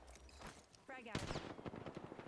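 Gunfire in the video game Apex Legends, a short burst of rapid shots cutting in midway, with players talking over and around it.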